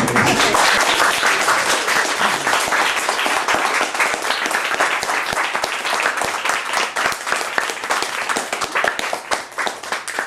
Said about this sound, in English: Can we have another round of applause for Lizzy?